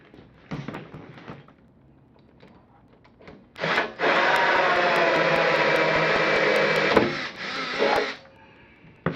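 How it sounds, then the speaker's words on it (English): A power drill bores steadily into the side of a wooden wine barrel for about four seconds, a loud continuous whine with grinding, after a few short bursts and handling noises. "drill a hole big enough for this in the side of the barrel"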